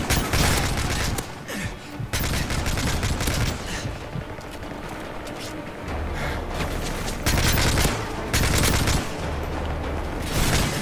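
Rapid automatic gunfire during a Call of Duty Modern Warfare 3 Spec Ops mission, loud bursts of rattling shots and booms that repeat across the stretch, with short quieter gaps between volleys.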